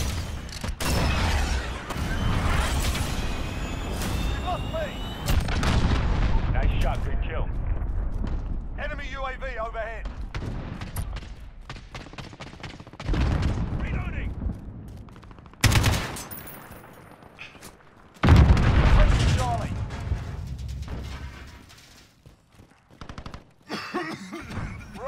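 Explosions and rapid gunfire from a Call of Duty Modern Warfare Domination match, with a missile strike among them: loud bursts and crackling shots come in waves, with sharp blasts near 16 and 18 seconds and quieter gaps between. Game voice callouts run underneath.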